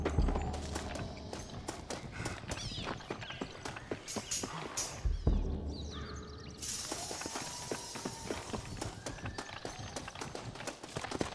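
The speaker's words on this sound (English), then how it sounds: "Looks like Carlos left us some horses." Rapid clip-clop of horse hooves trotting in the video game Red Dead Redemption, dense and continuous, with a brief rustle and clatter partway through.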